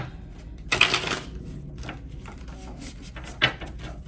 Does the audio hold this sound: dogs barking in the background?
no